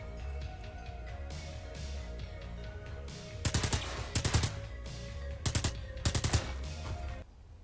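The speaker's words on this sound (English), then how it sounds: "Looks like we got a big revolver with a sniper scope on it." A big revolver fitted with a sniper scope fires in Brigador Killers, several loud bursts of rapid shots in clusters over a steady game backdrop, then cutting off.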